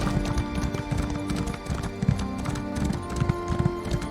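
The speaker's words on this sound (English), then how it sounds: "my horse runs out of stamina right as I get to it." A horse gallops along a road in the video game ESO, its hooves clip-clopping in quick, steady rhythm. Layered game music and ambience play underneath.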